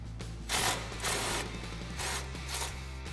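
A ratchet socket wrench with a 19 millimeter socket works a strut nut on a Toyota Tacoma front suspension, its clicks coming in repeated bursts of ratcheting close by against a steady low background hum.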